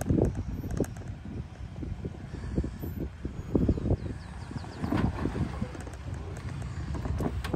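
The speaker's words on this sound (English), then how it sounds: "it's really windy, so if you guys do hear a lot of wind noise" Strong wind buffets the microphone in a continuous low roar, with gusty surges throughout and faint bird chirps high in the background.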